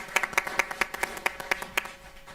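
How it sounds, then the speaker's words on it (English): A small audience at a school board meeting claps for seventh graders: a short, fairly quiet burst of steady, rhythmic handclaps with no talking. "Can we have a round of applause for our 7th graders?"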